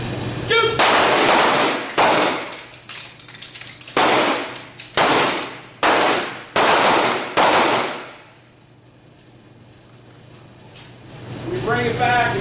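Handgun shots ring out at an outdoor night shooting drill, a rapid string of roughly ten sharp, loud reports over about eight seconds, then quiet.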